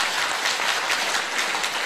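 Audience applause at a graduation ceremony for Pagar Nusa martial-arts trainers in West Nusa Tenggara, a steady dense wash of clapping held at even loudness throughout, with no speech over it.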